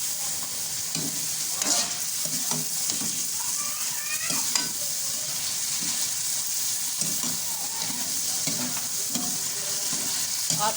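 Ground coriander and spices fry in a karahi with a loud, continuous sizzle, and a stirring spoon scrapes and taps close by throughout.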